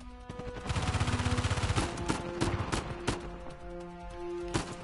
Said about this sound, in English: Excuse me, please stop shooting me.